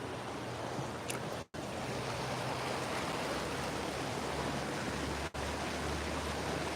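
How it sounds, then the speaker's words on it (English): Creek water flowing through a city park at Creek Street, a steady broadband rush close by, continuous apart from two brief dropouts, with no talking. "the water flows into the creek from the other creek, which is this creek"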